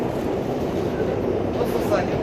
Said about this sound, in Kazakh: Бродим по московскому метро.